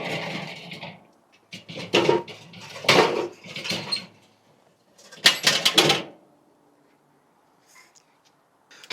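Hot Jealous Devil Flex charcoal dumped into the center of a Slow 'N Sear, several separate bursts of rattling, clattering pieces, close and fairly loud, then quiet gaps.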